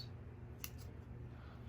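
Scissors snip through the back of a Cattleya orchid during division and repotting, making two quick, close cuts over a quiet background.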